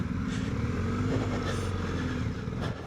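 Motorcycle on a dirt backcountry route passing by, its engine droning and revving at moderate distance, steady throughout with a slight fade near the end.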